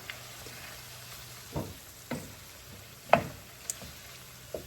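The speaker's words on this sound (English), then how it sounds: "I'm going to add the codfish. Add the codfish. Mix it in." Codfish stirred into a sizzling pan of olive oil for Portuguese Bacalhau à Gomes de Sá, a steady close frying hiss broken by a few sharp scrapes and clinks of the spoon, with no talking.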